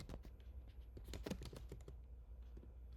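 Quiet, close keystrokes on a computer keyboard as a prompt is typed, an irregular patter of soft clicks with a brief denser burst in the middle.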